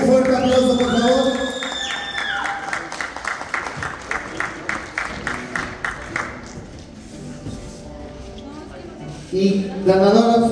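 Applause and cheering from an audience at a bodybuilding contest, the Olympia Hércules competition in Querétaro, with loud clapping dying down into scattered hand claps, then a fresh burst of cheering near the end; an announcer speaks at the start.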